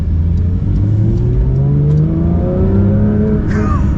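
A Porsche 992.2 GT3 Weissach engine revs hard while driving, its pitch climbing steadily through the rev range, loud and close, with a sharp high note near the end.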